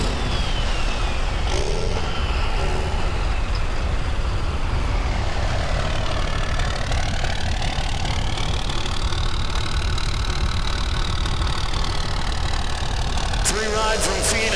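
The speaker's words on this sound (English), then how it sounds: "It's a turbo auto diesel, Strictly Diesel Mustang" A turbo diesel Mustang drag car rumbles steadily and loudly at a diesel-class drag strip event in Phoenix, a dense continuous engine roar with no clear breaks and crowd or track noise mixed in.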